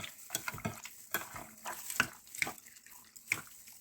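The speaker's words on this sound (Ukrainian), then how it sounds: "І все перемішуємо." Wet scraping and clinking of a spoon stirring a sausage mixture of meat, paprika and ice-cold water, uneven strokes close by, with no talking.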